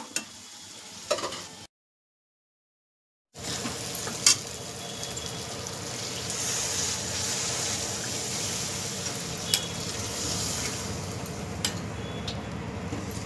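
Oil sizzles steadily in a pan of mutton curry with chilli powder while a utensil scrapes and clinks now and then, with a brief silent gap near the start.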